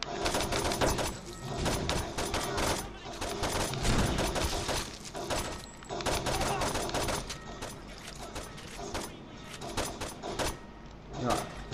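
Gunfire from the video game Saints Row 2 crackles in dense, continuous bursts through the whole stretch, loud and busy, with a voice talking over parts of it.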